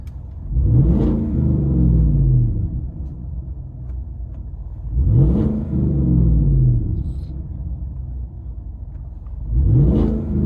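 A straight-piped 2017 GMC Sierra Z71 with a 5.3L V8, heard from inside the cab, gives three deep rumbling revs spaced several seconds apart, each swelling and falling back to a throaty idle.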